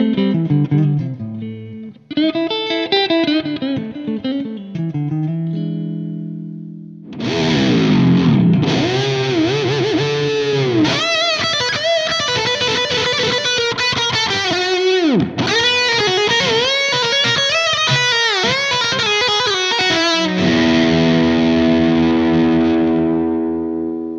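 Distorted Gibson Les Paul Custom Axcess electric guitar with a Floyd Rose tremolo, played loud and alone: a few opening chords, then fast lead runs with string bends and dive-bomb swoops, ending on a ringing chord.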